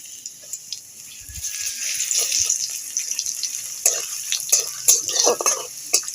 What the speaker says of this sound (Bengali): রসুনটা ভালো করে ভেজে নেব